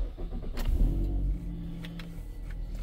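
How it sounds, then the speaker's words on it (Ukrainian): The engine of a 2008 Nissan X-Trail is started from inside the cabin. A short starter crank is followed by a low rumble as the engine catches, and it settles into a quiet idle with a few faint clicks. "запустимо двигун. Ще раз."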